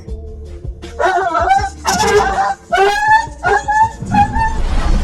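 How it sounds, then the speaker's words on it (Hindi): A dog yelps and whimpers after touching an electric fence, high strained cries in short bursts over background noise, loud and close. "अब जो ही कुत्ते को करंट का झटका लगता है तो ये बेचारा उल्टे पांव यहाँ से भाग जाता है।"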